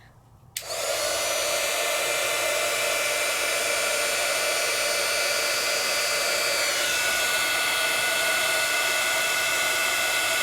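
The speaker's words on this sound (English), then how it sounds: "So let's grab my heat tool" Embossing heat tool switches on abruptly and blows steadily to melt embossing powder over stencil layers, a loud, continuous close-up whoosh with a faint whine that holds unchanged for about ten seconds.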